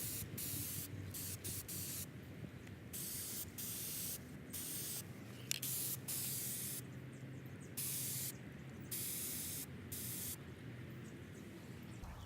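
Aerosol spray paint hisses in repeated bursts as a coat goes onto IKEA stool parts outdoors in cold weather, with short pauses between steady, moderately loud sprays over a constant background.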